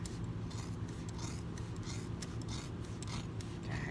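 Fabric scissors cut through cloth while a tailoring facing is marked and trimmed, giving a steady close rasping crunch that runs without pause and with no talk.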